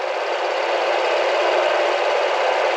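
A Honda Ruckus scooter engine, a junkyard revival with a faulty intake manifold, idles with a steady, even buzzing drone that holds close and constant, with no revving and no voices.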